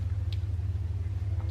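Steady low rumble of a car idling outside the front of a house, a continuous distant engine drone with faint music mixed in and no talking.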